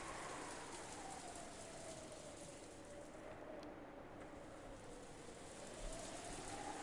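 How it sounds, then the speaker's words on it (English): Steady rain ambience from the visual novel game Umineko, a continuous hiss of falling rain heard alone at low level throughout. "Outside, it was still raining."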